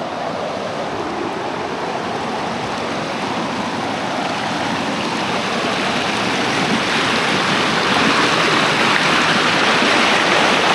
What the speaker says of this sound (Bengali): জলের বিশাল স্রোত